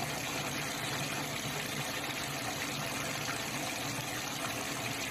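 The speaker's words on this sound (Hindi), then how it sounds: "अब इसमें हम इसको शुरू करके पानी पहले एयर निकाल देते हैं पूरी।" Water gushes steadily from a repaired tap as trapped air is purged, a continuous broadband hiss and rush with a faint low hum underneath, close and even throughout with no talk.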